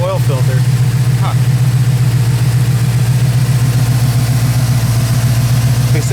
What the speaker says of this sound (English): this idle's nice